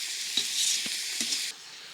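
Meat and onions frying in oil in a pan while being stirred: steady bright sizzle with a few soft scraping stir strokes, fairly quiet and close, no talking, hiss dropping off near the end.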